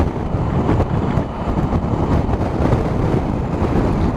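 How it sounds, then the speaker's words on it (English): Heavy, loud wind roar buffets the microphone while riding a Triumph Tiger 1050 Sport motorcycle on an open road, a constant broadband rush with no speech. "get out of that wind."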